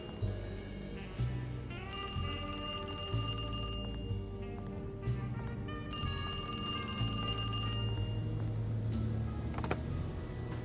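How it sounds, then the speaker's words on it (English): An old telephone bell rings in Alone in the Dark (2024), two long shrill bursts separated by a pause over a low background hum. "apparently it made the phone ring."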